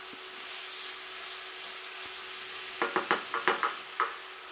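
Beef browning in a hot frying pan for an Italian casserole, with a steady close sizzle and a short run of sharp scraping stirs near the end, no voices.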